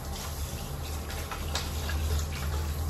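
Water runs in a steady, unbroken rush while plants are watered upstairs, a continuous, fairly close hiss with a low rumble beneath and no voices.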